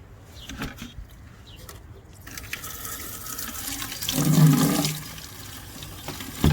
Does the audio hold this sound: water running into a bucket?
yes